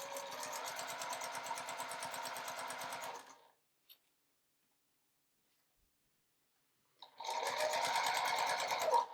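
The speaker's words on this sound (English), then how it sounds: "we're going to sew around the bag" Sewing machine stitching a half-inch seam around a bag, a fast steady whirring rattle close up that runs, stops for a few seconds of silence, then starts again.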